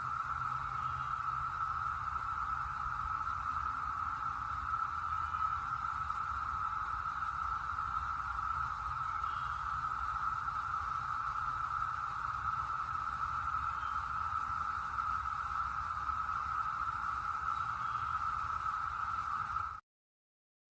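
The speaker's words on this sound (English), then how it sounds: "this is the sound of those cicadas back in 2021" Brood X periodical cicadas from 2021 drone in a dense, steady chorus, a loud continuous buzzing whine that holds without a break for about twenty seconds before cutting off abruptly, with no talk.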